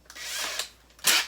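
A cordless power drill spins up in two short bursts while fastening a light fixture, a close whirring whine with a small gap between the runs.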